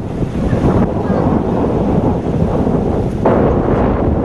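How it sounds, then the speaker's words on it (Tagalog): Strong wind buffets a microphone outdoors, a loud continuous rushing roar with a low rumble, as if over open water. "Sumisipol na hangin sa ibabaw ng bughaw na tubig"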